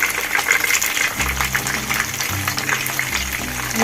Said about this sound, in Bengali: চিকেনগুলোকে আর একবার ভেজে নিচ্ছি বন্ধুরা।